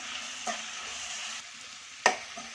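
One cup of grated sour raw mango frying with ginger in a pan gives a faint, steady sizzle, broken by a couple of soft stirring clinks.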